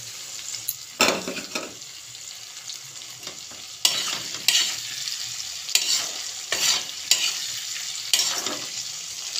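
Grated ginger fries in a pan for a curry while being stirred: a steady close sizzle broken by repeated scraping strokes every second or so, with no talking.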